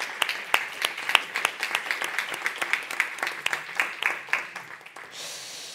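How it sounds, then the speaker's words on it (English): An audience at a municipal conference claps for participants, a brisk burst of many hands that holds for about five seconds and then stops abruptly, leaving quiet room noise. "So I will ask for a clap of all the people that was participating."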